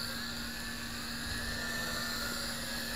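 Small waterproof quadcopter drone, an F2-RC Guardian Alliance, flying with a steady high-pitched buzzing whine that holds for about three seconds at moderate loudness, with no talking.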